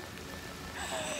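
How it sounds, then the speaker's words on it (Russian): Rain falls steadily on the ground in Singapore, a brief, soft, even patter with a faint rise near the end. "Мы не дождались конца дождя, думали, сейчас закончится, пошли."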